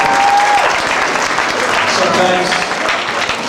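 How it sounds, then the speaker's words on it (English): Loud audience applause at a church stake roadshow, a full sustained burst of clapping from a large crowd that stays steady throughout. "By applause, please."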